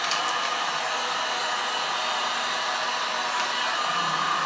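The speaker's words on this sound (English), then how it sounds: "And so I'm heating up this area now with the heat gun." A heat gun blows steadily while warming a plastic flange on a cyclone dust separator, a constant close fan roar with a faint whine that holds even throughout, with no speech.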